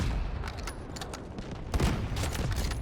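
Gunfire in the video game Delta Force: a dense run of sharp, loud shots cracking in quick, uneven bursts, with a heavier volley near the end and no talk over it.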